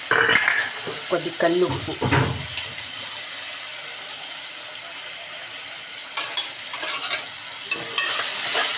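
Tomato pieces go into fried onions in a pan, with metal spoon scraping and stirring, bursts of sizzling and clanks, then a quieter stretch of frying before more stirring; a voice speaks briefly at the start.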